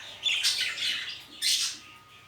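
Jumbo budgerigars in a breeding aviary give two bursts of harsh, scratchy squawking at close range, separated by a brief lull, with no talking.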